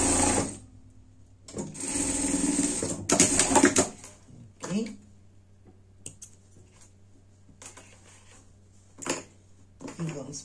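A sewing machine stitches a seam on a fabric camping bed, running in fast whirring bursts of a few seconds with pauses, close and loud, followed by scattered clicks and handling noises, with someone talking between the runs.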